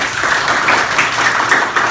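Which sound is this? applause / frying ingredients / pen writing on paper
applause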